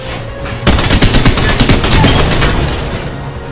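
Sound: gunfire in the video game Apex Legends

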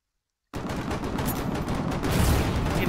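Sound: gunboat shells firing in video game Foxhole

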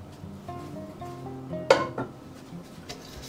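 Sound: mixing brownie batter in a bowl

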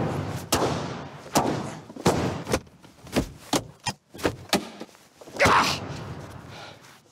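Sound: car door slammed on Volkswagen Passat

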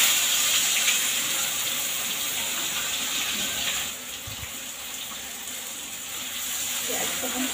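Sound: onions frying in a pan

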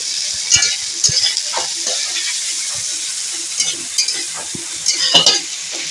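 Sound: onion and garlic frying in a pan

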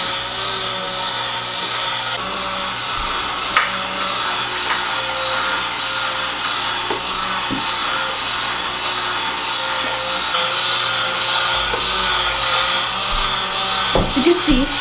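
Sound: motor of a Motorworks model engine turning pistons and timing belt

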